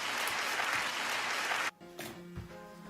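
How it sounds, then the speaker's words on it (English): An audience at a media night claps in a dense burst for about a second and a half, then cuts off abruptly into a quieter stretch with faint tones. "Clap if you have anxiety"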